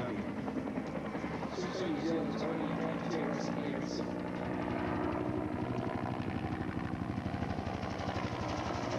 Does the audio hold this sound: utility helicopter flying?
yes